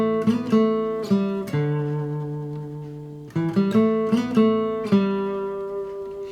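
A solo guitar picks out the chorus riff of a song, plucked notes that ring and decay, with a pause before the phrase repeats.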